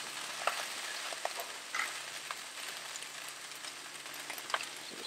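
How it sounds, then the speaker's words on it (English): Fried rice sizzles and crisps on a Blackstone griddle, a faint, steady crackle broken by small pops and light scraping. "What I'm really looking for is to see this rice start to really fry and kind of crisp up a little bit,"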